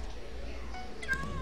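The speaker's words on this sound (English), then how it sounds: "I'm just meowing." A cat meows in a video game, a brief high mewing cry near the end of the moment, heard over steady game background noise.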